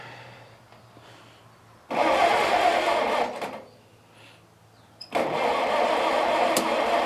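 A Farmall Cub tractor engine cranks in two loud mechanical bursts separated by a quiet pause, the second attempt running on steadily to the end.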